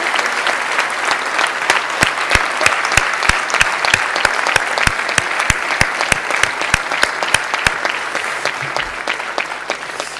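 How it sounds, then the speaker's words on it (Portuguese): Sustained audience applause at a closing session of the Correntes 2016 event, honouring Luís Diamantino: dense, steady clapping from a large crowd, loud and near, with a few sharp individual claps standing out throughout. "eu acho que ele merece uma salva de palmas"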